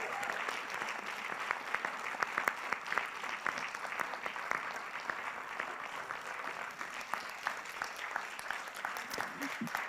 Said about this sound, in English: Big thanks and applause.